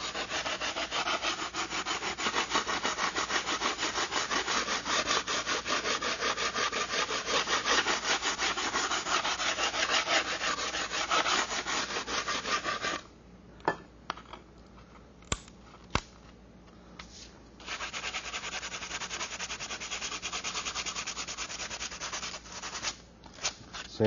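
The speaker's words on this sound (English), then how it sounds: "Now what I'm doing is sanding along that edge right there, basically cutting the fiberglass" Fiberglass is sanded along the edge of a fully covered aileron on a radio-controlled model aircraft. A steady, close, rasping scrape runs for about thirteen seconds, then gives way to a few short strokes and light taps before the rubbing resumes.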